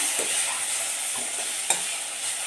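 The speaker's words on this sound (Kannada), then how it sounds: "ಫ್ರೈ ಮಾಡ್ಕೋಬೇಕು" Egg curry masala with tomato frying in a pan, a close continuous sizzle broken by a few scraping stirs of the spatula, with no voices.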